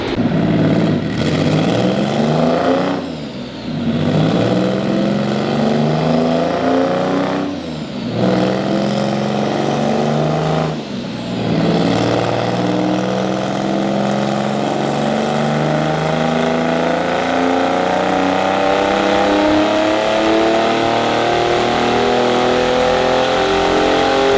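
A turbocharged EG33 flat-six in a Subaru WRX STI revs hard on a dyno, loud and close, with its pitch climbing in repeated sweeping pulls that briefly drop off between runs.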